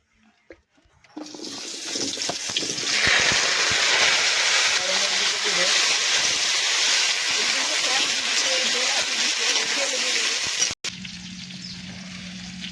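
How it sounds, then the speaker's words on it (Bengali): Oil heats in a kadhai for a Bengali meat curry, giving a steady broadband hiss and sizzle that starts loud after a quiet second and holds for about ten seconds before cutting off, with a faint hum afterward. "গরম হয়ে গেছে কোঁড়ায় তেল দিয়ে দিই"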